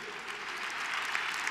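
Applause from a crowd at an international roller skating event, a dense even wash of clapping that swells slightly toward the end.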